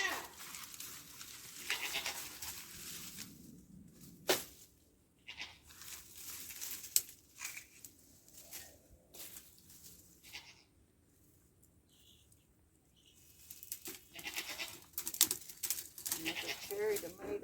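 A newly bought buck goat in an unfamiliar garden spot bleats repeatedly, faint and somewhat distant, in scattered calls between quieter gaps, with soft crinkling and low outdoor background.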